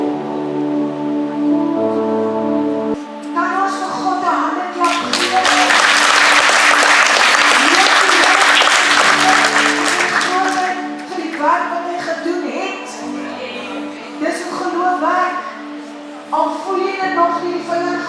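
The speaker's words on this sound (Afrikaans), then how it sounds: "Kan ons vir God 'n hande klap gee?" A church congregation breaks into loud, sustained clapping during a worship service, swelling to a dense peak in the middle and easing off, with music playing steadily underneath throughout.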